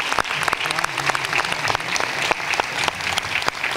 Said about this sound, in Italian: Ecco, un grande applauso.